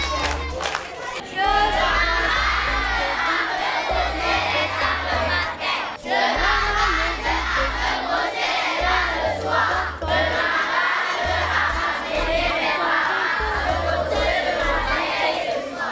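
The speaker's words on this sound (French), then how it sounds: "Applaudissez pour lui." Schoolchildren at Cambridge Primary and Nursery School cheer and shout in a loud, sustained burst, with bursts of clapping and excited voices rising and falling across the whole stretch.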